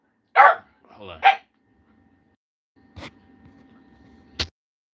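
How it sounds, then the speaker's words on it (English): A dog gives a couple of sharp barks near the start, then single short barks around the middle and end, separated by quiet stretches over a faint low hum. "I gotta let my dog out and stuff. He's like he's gonna go crazy."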